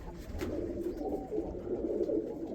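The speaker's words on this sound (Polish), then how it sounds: "samiec zobaczcie grucha już" A male pigeon coos close by, a low, rolling, throaty call repeated continuously with no voices.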